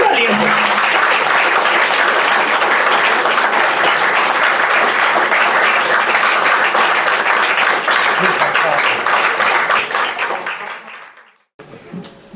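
At a book launch ceremony for a Punjabi translation of Zabur-e-Ajam, a hall audience breaks into loud, sustained applause that holds steady for about ten seconds before tapering off into near silence.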